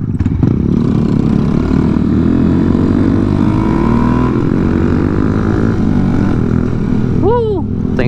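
A lowered Honda Monkey motorcycle with a stretch kit rides on the freeway at night, its engine droning loudly and steadily throughout, with roaring wind and a brief rising whoop near the end.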